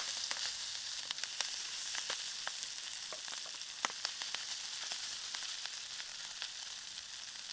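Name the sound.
pork and potatoes sizzling on a hot sizzling plate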